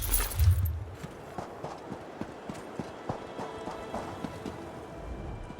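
Hooves clip-clop in a steady walking rhythm in the video game Elder Scrolls Online, soft and fairly close, each step a distinct knock after a brief louder thump at the start.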